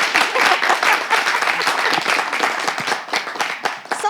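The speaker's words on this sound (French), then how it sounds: "Tu vois, même les applaudissements sont faibles" Audience applause for Togolese women at a live talk show, a steady dense wash of many hands clapping throughout, fairly loud and sustained, with no talk over it.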